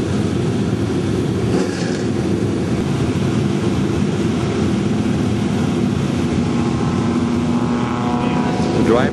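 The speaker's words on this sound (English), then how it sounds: "Time to fire up those engines." Stock car engines in a Great American Stockcar Series race at Portland roar continuously and loudly nearby, a dense steady drone with some pitch shifts toward the end.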